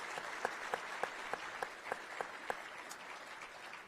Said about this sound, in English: giving a round of applause for all the men and women that serve our community as city